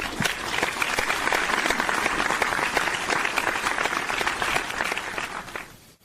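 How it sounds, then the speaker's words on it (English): Round of applause for Keith Brugman on an Orange and Blue Network show, a sustained dense patter of many hands clapping at even loudness for several seconds before fading out at the end. "Give him a round of applause."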